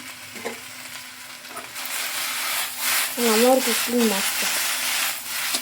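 Okra stir-frying with sambar powder on low flame sizzles softly while a spoon scrapes and stirs, with a voice speaking briefly over it midway.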